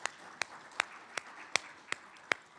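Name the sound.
audience applause for chamber board members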